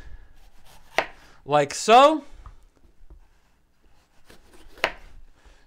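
A knife cuts through a yellow-orange bell pepper on a cutting board, making two sharp chops about four seconds apart, with a brief spoken phrase between them in a quiet kitchen.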